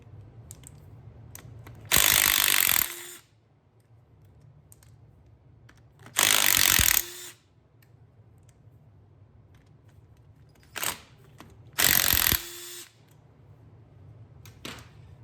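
A ratchet wrench loosening 12mm nuts on the studs of a used Audi 2.0T engine, heard in four loud, sharp clicking bursts of about a second each, separated by quiet pauses.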